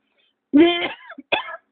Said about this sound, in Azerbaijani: O öskürməkdə